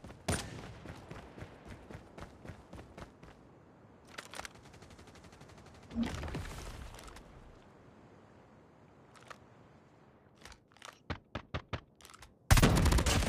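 Rapid bursts of BP-50 submachine gun fire from Call of Duty Mobile crackle in quick strings of sharp shots with pauses between volleys, ending in a loud sudden blast.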